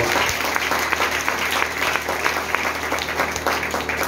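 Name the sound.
audience applause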